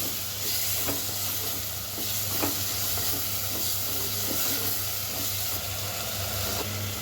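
Tomato pieces being stirred into a sizzling pan of brinjal-tomato curry, with a steady close hiss of frying and faint scraping of the spoon running throughout, no voices.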